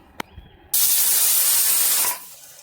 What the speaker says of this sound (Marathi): कुकरला तीन शिट्या झालेल्या आहेत